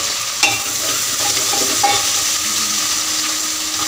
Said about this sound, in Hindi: अब मैं इसमें डालूंगी प्याज